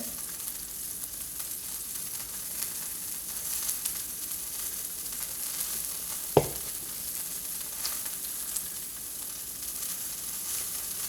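Steak sizzles steadily in a hot pan, a continuous crackling hiss with a single sharp knock near the middle.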